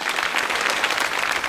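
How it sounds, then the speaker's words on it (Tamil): Audience applause, a steady dense patter of many hands clapping at close range, continuous and fairly loud throughout with no talking over it. "ஓ, கைத்தட்டுங்க."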